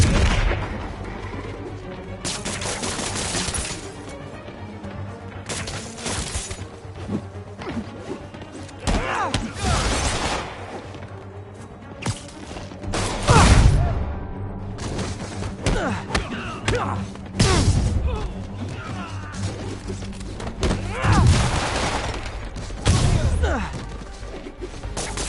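Gunfire and crashing combat hits in Marvel's Spider-Man, scattered loud bangs and thuds spread irregularly over a bed of game music and ambience, some blows sharp and close, others heavier and muffled.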